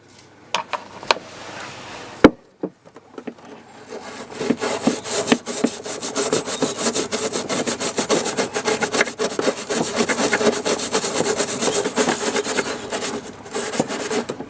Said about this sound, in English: I'll do a little test with a brush.